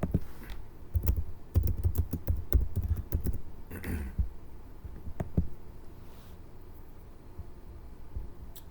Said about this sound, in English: Let's just type it up.